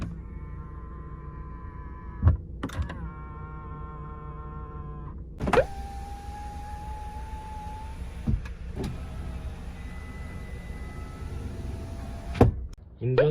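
Electric folding side mirrors on a used Hyundai Grandeur New Luxury whirr as they motor in and out, producing several steady humming runs with sharp clunks at start and stop, set against quiet car-interior background noise.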